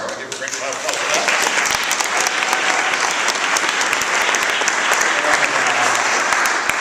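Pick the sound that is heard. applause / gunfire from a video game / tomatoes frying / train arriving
applause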